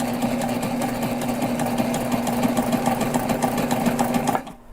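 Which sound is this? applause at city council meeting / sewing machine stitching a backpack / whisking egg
sewing machine stitching a backpack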